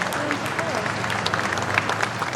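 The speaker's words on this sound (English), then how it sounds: "The Royal Mile echoed to the sound of clapping as the hearse wound its way through the city." Crowds lining Edinburgh's Royal Mile clap steadily as a funeral hearse passes, a dense spread-out patter of applause heard under a narrating voice.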